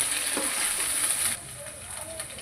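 Ginger paste and turmeric fry in a pan while being stirred, giving a steady close hiss of sizzling that drops slightly in intensity partway through.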